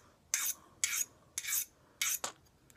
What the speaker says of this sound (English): Found this and it works really well for sharpening your knives.